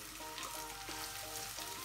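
Onions fry in a pan for Filipino-style spaghetti sauce, a steady close crackling sizzle with faint stirring, no voices.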